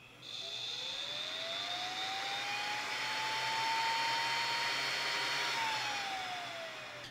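A BMW secondary air pump, powered directly with 12 volts, spins up with a rising whine that holds steady over a broad rushing hiss of air and then eases off. It is loud and close, and no one talks over it.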